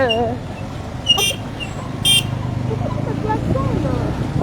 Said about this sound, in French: les gens ont trop klaxonné ici